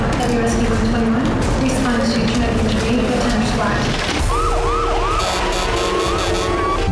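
Police and ambulance sirens wailing on a road into a campground, loud and continuous with rising and falling tones, shifting to quicker yelping whoops partway through over background rumble.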